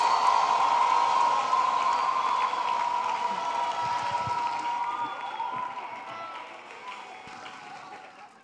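A church congregation clapping for Jesus: a broad wash of many hands applauding together with a ringing tone through it, loud at first and gradually fading.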